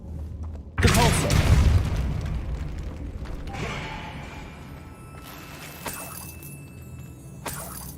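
The Depulso spell in Hogwarts Legacy is cast with a sudden loud whooshing burst that booms and then decays into a long rumbling tail, with softer game ambience and a few faint clicks after it.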